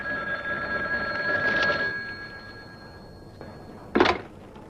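A telephone bell rings steadily in a film scene, then cuts off, followed by a short thud and a brief clatter as the receiver is picked up, with no voices.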